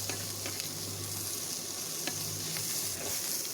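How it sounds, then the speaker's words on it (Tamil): Dried fish frying in a pan sizzles steadily while being stirred, with a constant crackle and occasional sharp scrapes of the utensil against the pan, close and fairly loud. "இப்போ இதை நல்லா 2 நிமிஷம் நல்லா பிரட்டி விடுங்க"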